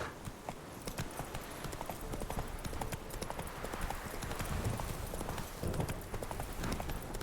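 Roach, the horse in The Witcher 3, gallops with a steady, rapid clip-clop of hooves throughout, close and fairly loud over a busy game soundscape, with a faint voice now and then.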